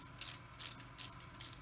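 A hand ratchet clicks in four short bursts while tightening the small through-bolts of an electric motor during a bearing replacement, quiet and close with no voices.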